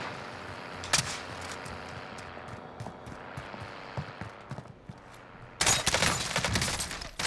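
Gunfire in Call of Duty Warzone (Cold War season 1), with scattered single shots and bursts from a rifle, then a dense, loud fusillade of rapid fire near the end; no voices.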